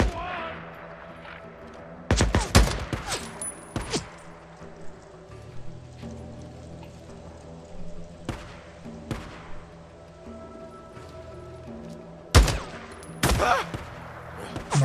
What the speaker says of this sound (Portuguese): Nossa mãe, que tiro, cara.